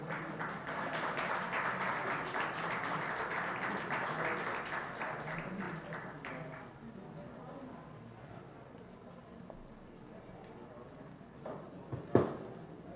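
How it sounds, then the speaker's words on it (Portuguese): Strong applause from an audience at a ceremonial event, a broad steady clatter of many hands for about six seconds that then fades into quieter room noise and a few isolated taps. "nós recebemos um aplauso forte"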